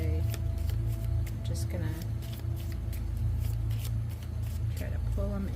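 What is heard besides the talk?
shuffling a deck of reading cards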